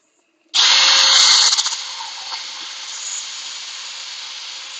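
A power sander on wood kicks in loudly after a moment of silence, a harsh buzzing roar that settles into a steadier, slightly quieter grind and runs on alone, close to the mic.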